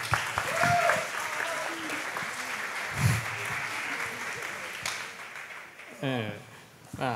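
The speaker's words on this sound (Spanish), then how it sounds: "Un aplauso, por favor." Audience applause fills a year-end school music concert hall, steady broadband clapping throughout with crowd murmur and a few voices mixed in, brief louder bursts near the end.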